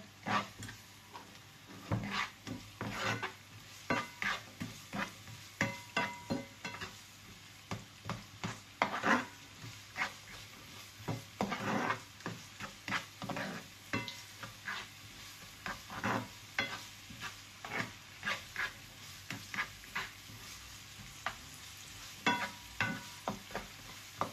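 Ginger sautéed and stirred in a pan while cooking chicken gizzards and liver, with a steady soft sizzle under repeated sharp scrapes and clinks of a utensil against the pan, fairly faint and close.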